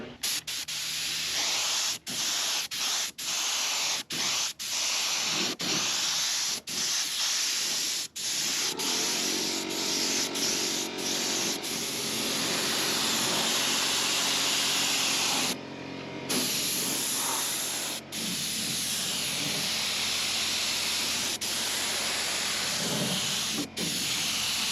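Sanding inside a flood-damaged classic Chevrolet Corvair during headliner restoration, a steady loud hiss of abrasive work running almost continuously, broken by brief pauses and short gaps.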